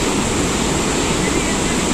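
Floodwater gushes through the dam gates on the Musi river in a loud, dense, unbroken roar, a steady wash of rushing water close by.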